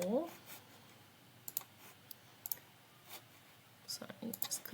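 Mouse clicks in the Canva design app, a handful of sharp, quiet clicks scattered across a near-silent room, with a brief soft voice at the start and a quick cluster of clicks toward the end.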